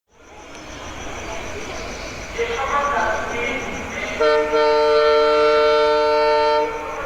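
A train sound effect in a Bengali radio thriller story: a loud rumbling train builds up, then a long, steady horn blast sounds near and clear with no talking over it.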